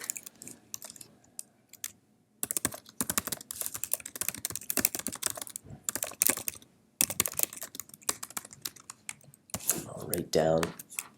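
Rapid keyboard typing on a computer in bursts with short pauses, fairly close and moderately loud, mixed with a few softer clicks and a brief voice near the end.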